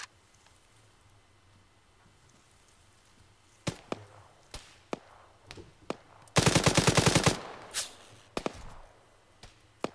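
Machine gun fire in a military video game: scattered single shots, then a dense rapid automatic burst of roughly a second, loud and close, followed by more isolated reports, with no talk.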